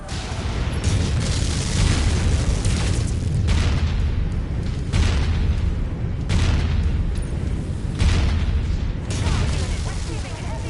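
Heavy missile explosions in the mech combat game Mechwarrior 5 Mercenaries boom repeatedly in loud, roughly regular bursts over a constant roaring rumble of battle, with no voice over them.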